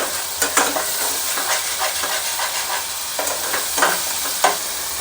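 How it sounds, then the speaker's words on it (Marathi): Mutton curry masala mixture with turmeric and salt frying and being stirred in hot oil, a steady close sizzle with periodic scraping stir strokes and no talk. "तेल टाकलं तेलामध्ये परतून घ्यायचं आहे"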